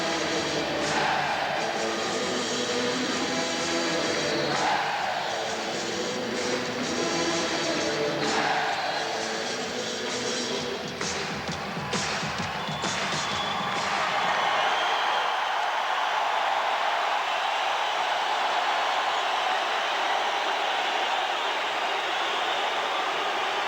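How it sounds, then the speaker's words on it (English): A 1990 NBA playoff crowd at Chicago Stadium, Bulls against Pistons, roars steadily in a dense, noisy wash with rhythmic stomping and clapping through the first half, then settles into a sustained hiss-like crowd roar. "Chicago on a run, and their fans are up and stomping and clapping"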